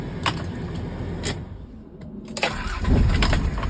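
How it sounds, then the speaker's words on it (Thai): A used car's engine cranks and catches after a jingle of keys, then settles into a steady idle, close by with no talking. "คือติดสตาร์ทติดง่ายนะครับ"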